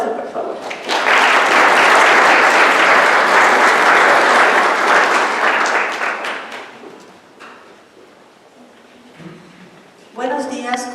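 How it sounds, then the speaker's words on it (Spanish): Audience applauding a university rector's welcome at a football institute event, loud and sustained dense clapping for about six seconds before fading, with a voice beginning to speak near the end. "Un aplauso, por favor."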